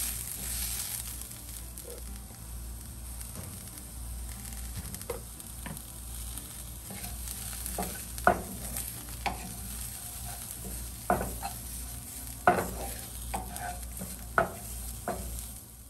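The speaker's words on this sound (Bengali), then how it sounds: "পেঁয়াজটা এই সব কিছুর সঙ্গে একটু ভালো করে হালকা একটু ভেজে নিয়ে তার মধ্যে না একটু হলুদ আর লবণ মিশিয়ে দেব।" Onion frying lightly in a pan with spices, a continuous sizzle broken by repeated scraping stirs of a spoon, close and steady with no talk.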